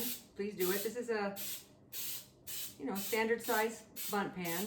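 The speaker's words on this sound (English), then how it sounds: "This is a all cooking spray that also includes flour." Short hissing bursts of a flour-containing cooking spray coat a standard-size bundt pan, repeating in quick puffs between and beneath a person's steady talking nearby.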